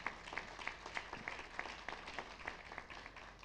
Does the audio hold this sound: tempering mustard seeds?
no